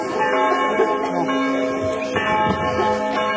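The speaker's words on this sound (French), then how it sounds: "je vous invite, avec les cloches, à faire silence." Church bells ring continuously at a festival in Pleyben, overlapping, sustained metallic tones, steady and moderately loud, with faint background murmur underneath.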